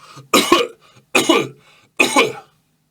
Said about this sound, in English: he like lets out 3 coughs